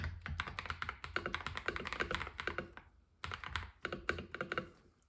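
Rapid typing on a wobbly GravaStar V60 Pro mechanical keyboard, heard up close and fairly soft: dense clattering keystrokes in two bursts separated by a brief gap.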